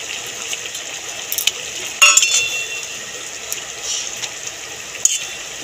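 Okra in mustard-poppy gravy being stirred in a pan: light scraping with a few sharp spoon clinks against the metal over a soft bubbling background, close and moderately quiet.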